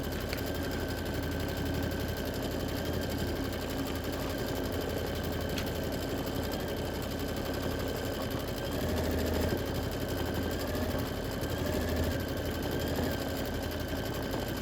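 An embroidery machine stitches a placement line for a quilt ornament block, running as a steady, even mechanical hum with a fast rapid needle rhythm throughout.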